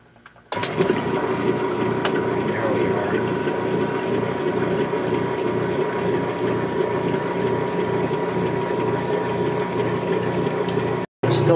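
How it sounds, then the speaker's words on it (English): A repaired Whirlpool washing machine pumps out water on its drain cycle, giving a steady, loud whooshing drone with a gurgling edge that runs unbroken for about ten seconds, then cuts out briefly near the end. "Now we're going to go for a neutral drain"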